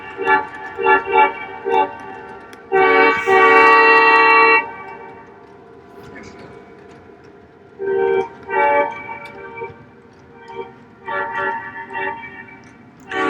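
Several short toots and one longer sustained blast from a model train horn, with quiet pauses between bursts and no talking.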